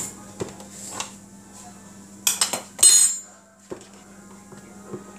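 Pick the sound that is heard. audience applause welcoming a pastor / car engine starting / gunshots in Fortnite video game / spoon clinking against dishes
spoon clinking against dishes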